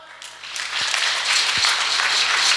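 An audience applauds, clapping rising from scattered claps into a sustained, fairly loud round with a few hand knocks near the microphone.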